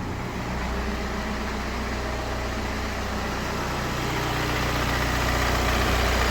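A BMW 118d/120d N47 diesel engine idles steadily and loudly nearby, a constant low rumble with no other sounds.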